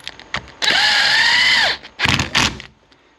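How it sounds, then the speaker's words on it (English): An impact driver tightens a bolt on a crazy cart in a short buzzing burst about a second long, followed by two quicker rattling bursts, close up and loud. "This impact just sounds like it's, you know, really turning it, which it will"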